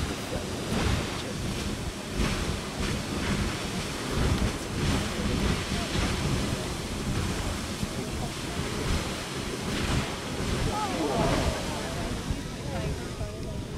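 Grand Geyser at Yellowstone erupts in a continuous roaring rush of falling water, steady and fairly faint, with people's voices murmuring beneath.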